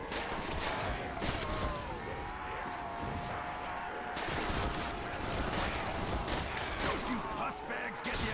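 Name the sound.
PPSh submachine gun firing in a zombies video game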